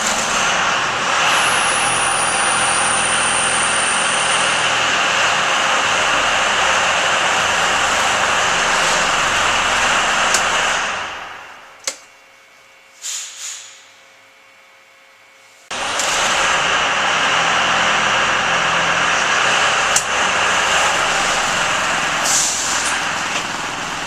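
A transit bus engine idles loudly and steadily, cuts out briefly, then cranks and restarts into a heavy, constant diesel idle with no talking.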